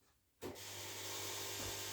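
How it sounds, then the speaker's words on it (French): A power drill runs at full speed during kitchen assembly and fitting, starting abruptly after a quiet moment and holding a steady, loud whirring hum with a rough motor buzz, close and without talk. "Écoutez la perceuse."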